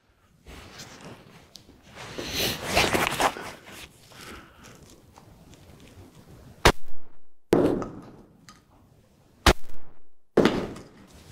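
Loud, sharp shotgun blasts from a Benelli Comfort fitted with a Briley choke, fired outdoors with both wad and wadless 36-gram shot loads. There are two distinct cracks a few seconds apart, amid rustling handling noise and no talk.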